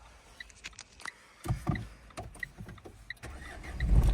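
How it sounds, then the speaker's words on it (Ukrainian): A Renault Megane engine cranks briefly with a few clicks and thumps, then catches and rumbles louder toward the end, heard close up. "Заводиться автомобіль з півоберту, що на холодну, що на гарячу"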